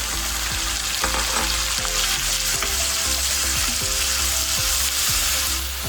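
Onions, tomatoes and cashews frying in a hot pan, a loud continuous close sizzle with occasional scrapes and clinks of a spatula, no voices.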